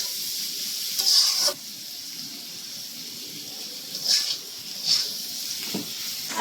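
Chowmein noodles with vegetables such as carrot being stirred in a pan, soft scraping bursts recurring under a steady sizzling hiss, close and moderately loud.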